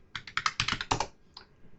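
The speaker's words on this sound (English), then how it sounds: "So we'll hit enter and we'll type anonymous" Rapid bursts of computer keyboard typing during a Hack the Box login, about a dozen quick close keystrokes in an irregular run, then a pause and one last key tap.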